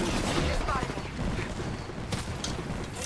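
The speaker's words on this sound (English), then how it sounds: "Oh, I'm being shot at." Enemy gunfire in the battle royale shooter Apex Legends, a dense burst of shots and impacts with a few sharper cracks near the end, loud and busy.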